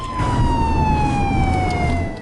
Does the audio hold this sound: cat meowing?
no